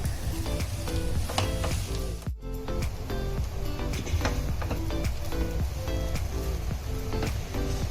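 A dabeli potato mixture with salt and sugar is stirred in a pan under a continuous sizzle, with regular scraping and clattering strokes of the spoon throughout and a brief dip midway.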